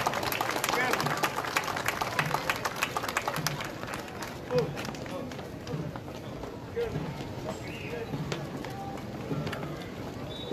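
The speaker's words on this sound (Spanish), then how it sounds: "Les brindamos un aplauso." Parade crowd at a September 16 Independence Day parade in Ciudad Fernández, San Luis Potosí, applauding a passing primary school contingent, with steady scattered clapping, dense crowd noise and hoof-like clops throughout.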